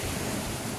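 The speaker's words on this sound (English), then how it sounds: "the waves start to get a little higher and a little bit rougher" Rough, rising sea waves surge steadily at Fort Charles beach in St. Elizabeth, a broad continuous wash of surf filling the short moment without pause or voices.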